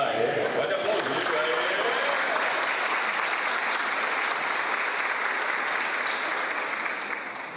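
A church congregation at an Independent Presbyterian church in Muzambinho, Minas Gerais, bursts into sustained, dense applause that holds steady and loud throughout, then tapers slightly at the end.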